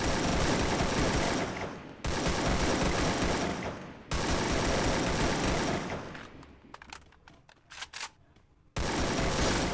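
Bursts of automatic gunfire ring out in the Free Fire video game, coming as long, dense, loud volleys separated by brief gaps, with scattered single shots and clicks in the quieter stretch.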